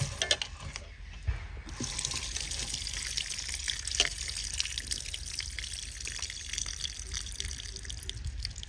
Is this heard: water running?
yes